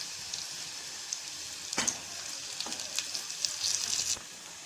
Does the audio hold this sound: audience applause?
no